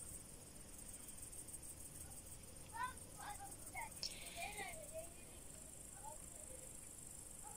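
Grasshoppers chirp at dusk on a foggy evening, a steady high trilling with scattered short chirps, fairly faint against a soft background hiss.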